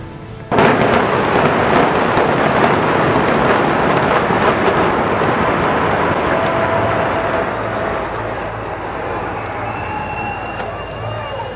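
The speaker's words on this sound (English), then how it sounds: "The whole building is falling in on itself, walls and everything just tearing loose." A large building collapsing after a demolition blast, a loud sustained roaring rumble of crumbling debris that fills the scene and slowly eases off, with people talking and shouting over it.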